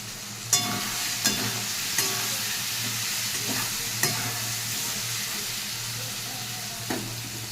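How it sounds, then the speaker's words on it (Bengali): Masala with tomato, green chilli, peas, turmeric and a little sugar fries in a pan with a continuous sizzle, and a spoon knocks against the pan every second or so as it stirs. "মশলাটা ভালো করে কষানো হয়ে গেছে,"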